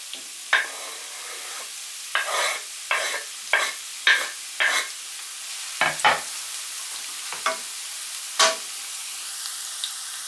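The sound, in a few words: onions frying and sizzling in pan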